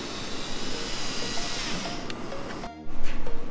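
A power drill bores holes through plastic on a 5th Gen Toyota 4Runner dashboard, a steady whining motor hum lasting a couple of seconds before cutting off, then a brief restart.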